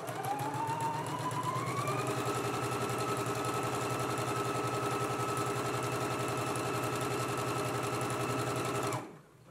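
A sewing machine runs steadily as it stitches a 5/8-inch seam on a garment, a close, even mechanical whir with a rising pitch at the start and a stop near the end, no voices.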